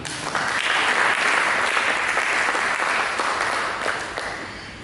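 A church congregation claps together during a sermon, a dense, steady wash of applause that holds strong for several seconds before tapering slightly at the end.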